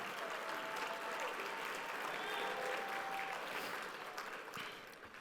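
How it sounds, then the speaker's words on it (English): Steady audience applause at a holiday party and awards event fills the whole stretch, a dense wash of clapping that holds level and tapers slightly at the end, with faint voices mixed in. "So if we give a round of applause to Christine"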